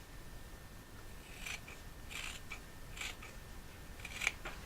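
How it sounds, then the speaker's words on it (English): Scissors snip through a small strip of Muji cotton wick material for a Wolverine RDA, giving several short, close, crisp cuts spaced about a second apart over a quiet background. "I'm going to do is going to cut a little strip of Muji"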